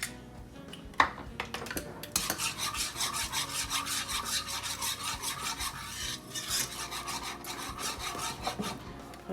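Half a lemon is juiced for a chicken recipe, heard as a close, rhythmic rasping and grinding of rind against a juicer in repeated strokes, with a sharp knock near the start and no talking.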